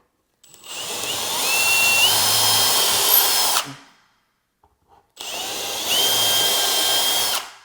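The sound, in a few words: power drill drilling through drawer hardware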